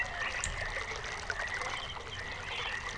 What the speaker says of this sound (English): Hear it flowing through this hose